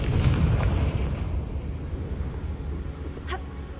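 A Confringo spell blast in the Hogwarts Legacy video game, a loud rumbling burst with heavy low boom that decays into a lingering roar, with a brief sharp crackle near the end.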